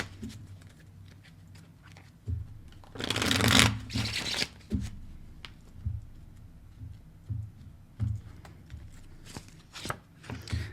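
Tarot cards being shuffled in a quick riffling burst, followed by soft taps and handling sounds close by.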